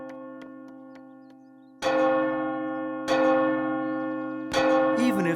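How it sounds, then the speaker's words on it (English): A cartoon firehouse bell in the countryside strikes three loud, ringing blows, each decaying slowly, after a quieter sustained tone, with no speech. "When the firehouse bell rang across the countryside, the volunteer firefighters responded."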